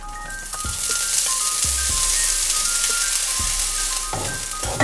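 Ground lentils with cumin and curry leaves roast in oil for paruppu usili, a loud, continuous close sizzle broken by a few scraping stirs and light rattles, with no talk.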